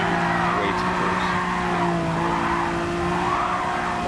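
Rear tires of a Honda NSX GT3 race car sliding and squealing through turns in GT Sport, a sustained screech over a steady engine drone, loud and continuous throughout.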